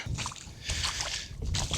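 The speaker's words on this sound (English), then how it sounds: "I'm just gonna fill my bucket with some water" Water sloshing and splashing at the beach as a bucket is dipped and filled, with broadband bursts of splash noise coming close and moderately loud in several uneven surges over a low, steady background.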